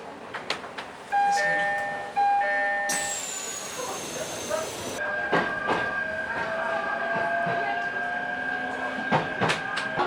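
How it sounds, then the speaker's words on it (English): A station chime rings as a local train bound for Nagano departs from platform 1 in Karuizawa, its motor whine rising steadily amid rumbling and rhythmic clatter of wheels, with voices faintly audible. "まもなく1番線からは普通列車長野行き発車となります。"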